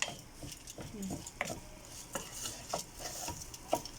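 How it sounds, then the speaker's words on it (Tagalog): Spices and tomato paste stirred together in a pan, giving soft irregular scraping strokes of a utensil with a few light metallic clinks over low sizzle-like background noise. "Haluin ng maigi para mag-mix lahat ng spicy at saka yung tomato paste."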